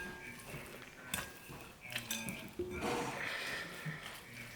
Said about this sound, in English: mash this up with the fork